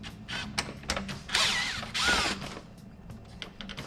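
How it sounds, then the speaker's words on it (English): Screws are undone on the air vent trim of a car dashboard during stereo preparation, with close ratcheting clicks and a couple of longer whirring bursts, then lighter clicks. "We've got to undo the screws for the air vent"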